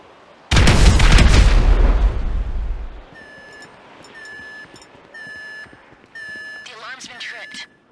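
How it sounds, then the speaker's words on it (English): A loud, booming explosion from a set charge during a heist in GTA 5 erupts and rumbles for a few seconds, then gives way to repeated electronic alarm beeps and tones. "An explosion will tend to do that."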